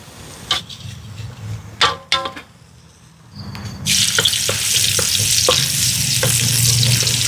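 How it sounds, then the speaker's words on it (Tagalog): Meat dry-frying in a pan over an outdoor cooking fire for pulutan, starting with a few scrapes and clinks before a loud, steady sizzle takes over and continues to the end. "Isasangag ko lang ho muna."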